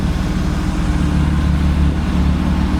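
A BMW 325i engine runs with its stock exhaust, a loud, steady low rumble with a deep burbling tone, close by and alone.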